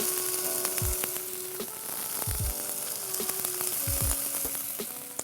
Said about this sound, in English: you hear that sizzle? That's how you know the oil is ready.